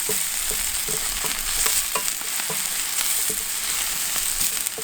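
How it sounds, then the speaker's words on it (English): Onions browning in a pan over an outdoor firepit, with a continuous crackling sizzle and regular scraping stir strokes about every half second, close and fairly loud, no voices. "I'm just going to brown these onions off a little bit, like this"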